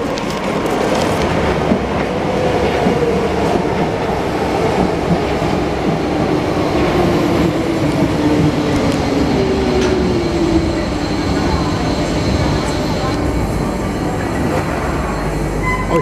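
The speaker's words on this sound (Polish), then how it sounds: "A tu jedzie metro, zobaczycie jak." Paris metro train arriving and passing through a station, a loud continuous rumble of wheels on rails with clattering and a rising and falling metallic squeal, close by and steady throughout with no talking.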